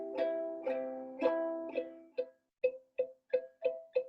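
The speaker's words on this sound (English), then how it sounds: "If you're not pressing down too hard enough, you might get a sound like this." A string instrument played without enough finger pressure gives muffled, buzzy plucked notes, a slower run of longer tones followed by a quicker series of short, choked plucks, played alone and fairly quiet.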